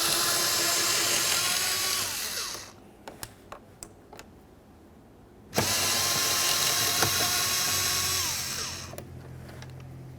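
A power tool runs in two sustained whirring bursts while removing a pair of 7mm bolts from the door panel of a 2001-2005 Ford Explorer Sport Trac, with a few small clicks during the quiet gap between them.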